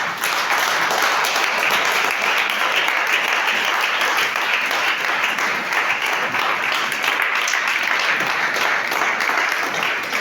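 A church congregation at a French-language service applauds and acclaims together. The clapping is loud, dense and steady, with no breaks for the whole stretch.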